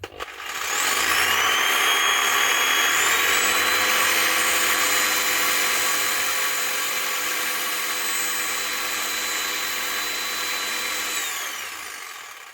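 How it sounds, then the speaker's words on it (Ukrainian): An electric jigsaw powered by a sine-wave UPS inverter running off a battery and drawing about 300 watts: a loud, steady motor whine starts abruptly, holds for about ten seconds, then winds down. "Триста ватт споживає лобзик."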